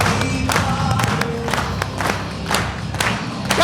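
A live seminar crowd claps and whoops in rhythm, with loud sharp hand beats about every half second over a bed of cheering and music, sounding close and energetic.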